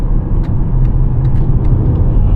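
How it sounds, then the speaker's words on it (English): A 2025 VW Touareg R-Line with a 3.0 V6 TDI diesel accelerating hard to overtake on the open road, giving a steady, loud low engine rumble with road noise throughout and no talking. "I'm gonna pull a massive overtake here."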